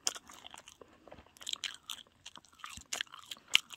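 Crunchy chewing of McDonald's cheese sticks, close and fairly quiet, with irregular bites and crunches spread through the clip and no talking.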